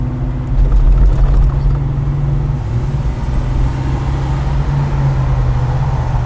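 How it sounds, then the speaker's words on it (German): Ford Mustang engine heard ahead from inside a Mercedes W111 cabriolet during a classic car rally, a loud continuous low rumble with steady drone and wind, no talking. "Der Mustang da vorne, das ist der Soundgeber."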